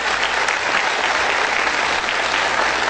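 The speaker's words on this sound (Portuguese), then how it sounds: "A qual aqui eu pediria uma salva de palmas" An audience claps steadily at a legal association event in Acre, a dense, even wash of applause from a crowd filling the whole moment without pause.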